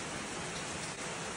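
Rain falls steadily, a dense, even hiss of drops on surfaces with no breaks.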